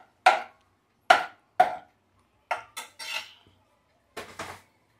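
Garlic and salt get stirred in a metal pan while cooking pasta, giving about eight separate clinks and scrapes of the utensil against the pan with short pauses between them.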